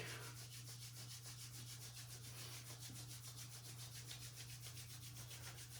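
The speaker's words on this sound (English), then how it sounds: "bring your hands together and rub them vigorously" Hands rubbed together vigorously, a steady rapid swishing friction that pulses evenly throughout, faint and close with a low hum underneath and no speech.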